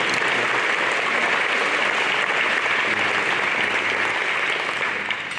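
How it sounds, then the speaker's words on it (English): An audience at a chamber of commerce awards banquet breaks into sustained applause, dense steady clapping from a large room that holds at full strength for about five seconds before beginning to ease. "give you a nice round of applause"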